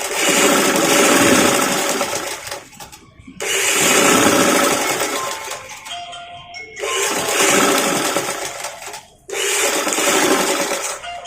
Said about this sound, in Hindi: ये हमने सिलाई शुरू करी